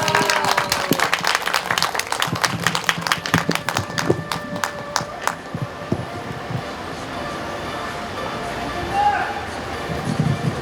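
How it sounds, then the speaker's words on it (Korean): Crowd at an outdoor candlelight protest rally claps to welcome a speaker, scattered distinct hand claps at first that blend into a softer, dwindling patter amid street background noise. "큰 박수로 모셔주시기 바랍니다."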